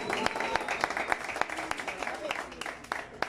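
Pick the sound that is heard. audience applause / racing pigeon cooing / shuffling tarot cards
audience applause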